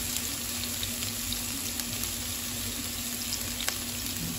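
Onions and about five cloves of chopped garlic fry in a pan with oil, giving a steady, loud, continuous sizzle close up with faint crackles, with no one talking.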